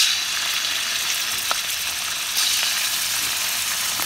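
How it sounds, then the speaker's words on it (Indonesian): Chicken meat sizzles and crackles in a hot pan, a steady frying hiss with a couple of soft clinks of stirring. "Goreng isi ayam dulu."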